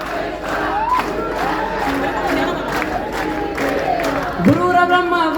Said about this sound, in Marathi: सगळ्यांनी म्हणा टाळ्या वाजवून सगळ्यांनी.